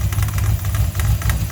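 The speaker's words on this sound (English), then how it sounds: "we done a smog pump delete on this car, and you hear that clattering" Steady idling engine on a car after a smog pump delete, with a rhythmic clattering from a serpentine belt that is slightly too long, loud and close with no voices.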